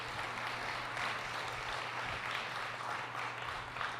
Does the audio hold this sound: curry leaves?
no